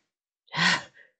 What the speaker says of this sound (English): Orlok's heavy panting echoed through the hall.